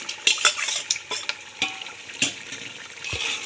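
Boiled goat trotters (paya) go into cooked masala in a pot where the oil has separated, with a busy mix of clinking spoon and metal knocks, wet stirring and a soft sizzle, close and fairly loud throughout.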